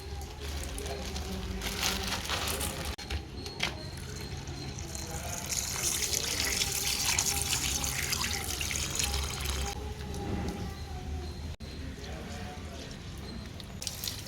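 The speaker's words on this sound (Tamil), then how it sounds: "கழுவி ஊற்றிட்டு அடுத்த தண்ணியில் வந்து ஊற வைக்கலாம்" Water runs and splashes as a kilo of golden basmati rice is washed and then left to soak for a wood-fired clay-stove biryani. The splashing and trickling carry on steadily throughout, with a voice heard over the water.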